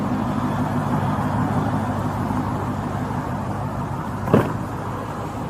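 A parked car's engine idles steadily with a low, even hum at moderate distance, a brief thump or click breaking in near the end, with no voices.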